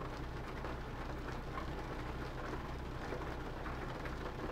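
Soft, steady rain patters in American Truck Simulator, a continuous gentle hiss over a low background rumble, fairly quiet and without voices.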